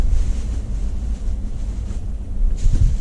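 Strong wind buffets the microphone in a constant low rumble, gusting louder near the end, with no one speaking.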